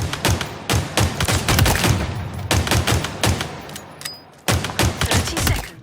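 Sidekick pistol firing in Halo Infinite, a rapid string of sharp, punchy shots in quick bursts with brief gaps between volleys, loud and close with no talking.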